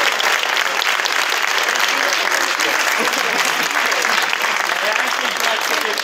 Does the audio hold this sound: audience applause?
yes